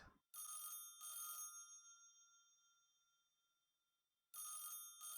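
An old-style telephone bell rings in two quick bursts, pauses with a fading ring, then starts ringing again; clear and alone.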